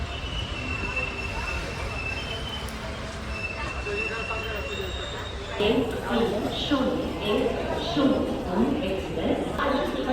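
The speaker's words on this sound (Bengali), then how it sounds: "এই এখন ট্রেনটা আমাদের এসে গেছে হচ্ছে অযোধ্যা ক্যান্টনমেন্ট" The Doon Express rolls into Ayodhya Cantonment station with rumbling wheels and rhythmic clacking over rail joints. The clacking grows stronger in the second half, and a person talks over it.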